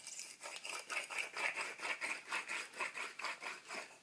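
A herb grinder grinding oregano, close and crisp, with rhythmic scraping twists about every quarter second, steady and unbroken with no voices.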